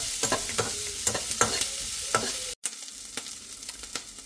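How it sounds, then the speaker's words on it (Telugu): Baby corn Manchurian vegetables fry in a pan as a spatula stirs them. Steady sizzling runs under repeated scraping strokes, close and fairly loud, with a brief dropout midway and no talking. "ఈ ఫుల్గా ఏమీ వేగాల్సిన అవసరం లేదు, సగం వేగితే చాలు ఈ వెజిటేబుల్స్."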